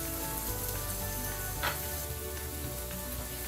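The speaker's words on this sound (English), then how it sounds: "cook it the rest of the way on low flame till I get a nice crispy exterior to the potato pieces" Red potato pieces fry on a low flame for a crisp exterior, a steady dense sizzle holding even throughout with one brief sharper crackle midway; no voices.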